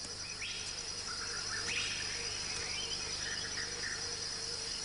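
Faint, steady high-pitched insect trilling of grasshoppers in African woodland, continuous and distant, with a few soft bird chirps scattered over a quiet background hiss.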